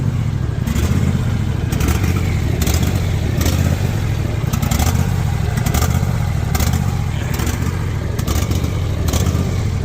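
A Husqvarna zero-turn mower engine idles roughly on concrete, a steady low droning rumble with irregular sputtering pulses and clattering bursts repeating every second or so, close and loud throughout.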